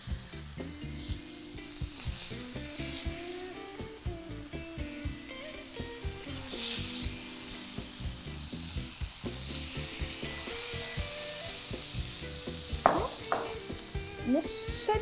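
Blackened-seasoned food with lime juice sizzles in a hot pan on a medium-high grill, a steady frying hiss running throughout with occasional scraping and clanking of utensils, and no voices heard.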